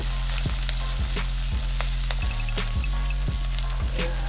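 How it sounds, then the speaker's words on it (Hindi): Onions dropped into hot oil in a pan for a potato and egg curry, sizzling loudly and continuously up close, with regular clicks and bumps of a stirring utensil against the pan. "प्याज को डाल देते हैं, उसी तेल में डाल देते हैं।"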